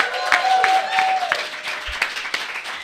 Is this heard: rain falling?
no